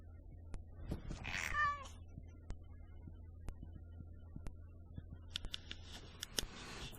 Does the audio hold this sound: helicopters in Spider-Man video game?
no